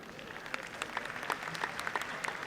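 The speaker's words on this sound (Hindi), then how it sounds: "देखिए क्या ताली बजा रहे हैं।" An audience at a Hindi comedy poetry gathering claps steadily, producing a dense, sustained patter of many hands at moderate distance, with a faint crowd murmur beneath.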